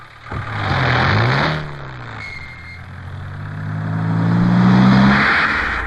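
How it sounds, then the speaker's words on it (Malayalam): A car engine turns over and revs, rising and falling through two swells of acceleration, close and loud with no talk. "ബാപ്പു, വണ്ടി ഇടാ."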